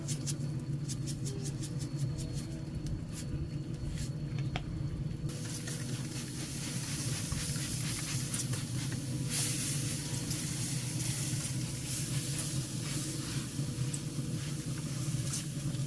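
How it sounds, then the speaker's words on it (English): An outdoor burner turned up to high roars with a steady hiss under a pot of pork butt being brought to a boil, growing fuller and louder partway through. "I have it outside on my burner. I'm going to turn this up to high, and I'm going to bring this up to a boil"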